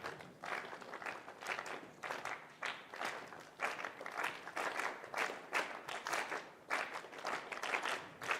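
Students in a high school music class clap a rhythm together, a steady run of sharp, fairly loud ensemble claps repeating in even pulses with no talking over them.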